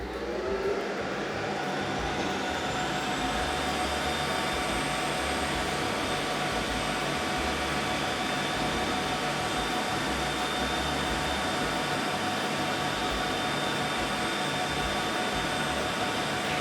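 An xTool F1 laser engraver runs as a steady, close whirring hum with a constant fan-like whoosh and a faint high tone, unbroken and unchanging throughout.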